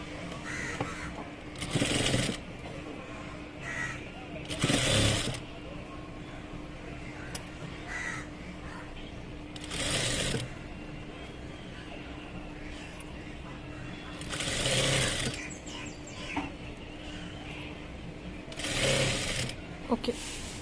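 Short bursts of a sewing machine stitching a fold of fabric, about five separate runs of a few seconds each, with crow caws and light room noise in the gaps.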